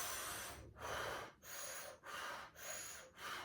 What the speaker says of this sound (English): It's a very strong breath. You want to use the cheeks.